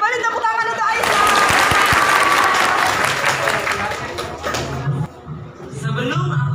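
A school audience gives a dense, loud round of applause for a student named Aisyah, with crowd noise mixed in. The clapping stays steady for about five seconds, dips briefly, then picks up again toward the end.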